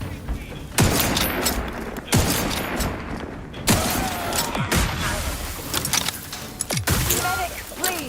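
Sci-fi gunfire in The Outer Worlds, with loud bursts of automatic fire and sharp single shots coming every second or so in a busy combat mix, with occasional voices under the shooting.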